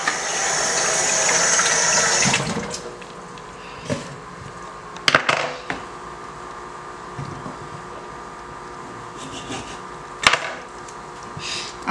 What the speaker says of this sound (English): Just rinse this real quick.